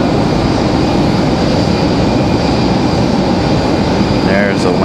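Airplane on final approach into Raleigh-Durham International Airport, a loud, steady broadband engine roar that holds close and constant throughout, with a faint tonal whine rising near the end.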